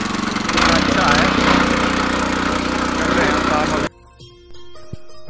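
A tractor fitted with a plough works a hillside field, its engine a loud steady drone with rumbling and creaking for about four seconds before cutting off abruptly to near silence with faint distant sounds.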